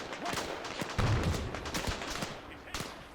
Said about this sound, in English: Oh, we've got somebody right there firing.